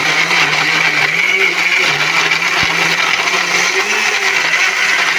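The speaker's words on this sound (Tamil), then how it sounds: "நல்லா காஞ்சது வந்து மிக்சி ஜாரில் போட்டு நல்லா ஓட்டினா நல்லா நைஸாக அரைச்சிரும்" An electric mixer grinder jar whirs loudly and steadily as it grinds well-dried malt grains into powder for homemade health malt, with a continuous motor drone and rattling grit and no talking.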